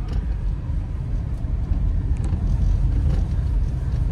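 A Mahindra Thar SUV rolls along a rural road past cashew trees with a continuous low engine and road rumble heard from inside, steady and fairly loud, with no talk.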